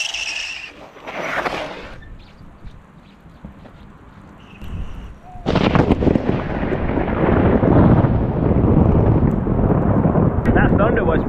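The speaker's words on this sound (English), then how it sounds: "You can hear the thunder above." Thunder rolls through a storm breaking over Liechtenstein, starting with a few scattered rumbles and bursts and then swelling after the midpoint into a loud, sustained broadband roar that lasts to the end, with no talking.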